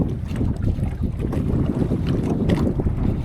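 Strong wind at sea buffets a small fishing boat during jigging, a steady, loud roar of gusts against the microphone mixed with the low rumble of water and hull, with no talking.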